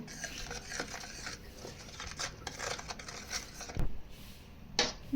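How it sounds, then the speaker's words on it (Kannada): Spoon stirring gram flour and rice flour batter with a pinch of soda for bajji, soft scraping and clicking against a bowl in an irregular rhythm, quiet and close with no talk. "ಹಾಕ್ಕೊಂಡು ಎಲ್ಲನೂ ಚೆನ್ನಾಗಿ ಮಿಕ್ಸ್ ಮಾಡಬೇಕು"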